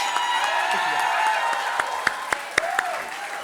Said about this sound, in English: all who pretty much appear to be here tonight, make some noise, Walshes.